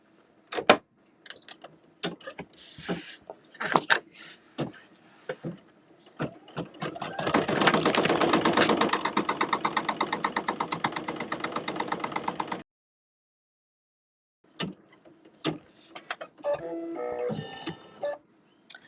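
An embroidery machine stitches a zigzag tack-down on an in-the-hoop pot holder, first in short separate bursts, then a steady fast rhythmic run for several seconds, stopping abruptly before a few more short bursts, close and fairly loud.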